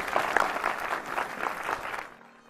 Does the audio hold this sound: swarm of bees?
no